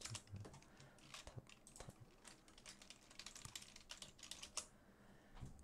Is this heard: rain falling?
no